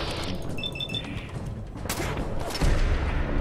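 Gunfire from a weapon in Fallout 4, a few sharp shots breaking through busy game sound effects with a heavy burst near the end.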